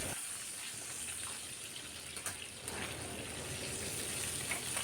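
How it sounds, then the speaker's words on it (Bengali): Katla fish pieces frying in oil in a pan, a steady close hiss and crackle that runs without pause throughout, with a few sharper pops partway through. "সুন্দর করে মাছগুলোকে ভেজে নেব আমরা"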